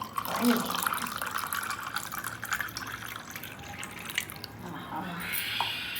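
Cold water poured into a glass of raw mango drink over ice, a steady trickling pour with faint splashing throughout, with someone speaking over it.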